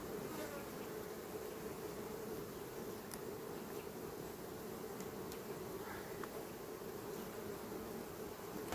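Many honeybees buzz continuously at the hive in a dense, steady drone, close by and unbroken, with faint occasional clicks above the hum.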